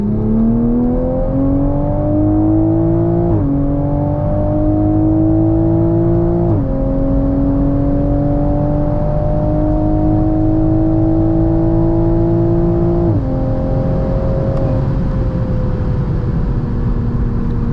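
A 2022 Toyota Supra 3.0 on its stock tune accelerates hard from 60 to 130, its engine note climbing loud and close inside the cabin. Three or four quick gear shifts cut in with brief dips before the rising drone resumes; no talk.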